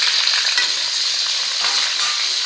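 Onion and capsicum frying in oil over a high flame, a steady, dense sizzle that holds evenly close by from start to finish with no voices.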